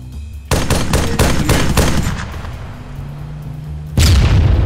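Loud, close gunfire in Arma 3: a rapid burst of several sharp shots, then a trailing echo and a final heavy blast near the end.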